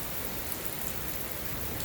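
Steady rain pours down during a storm in Florida, a dense, even hiss of drops on surfaces, soft and unbroken throughout with no voices.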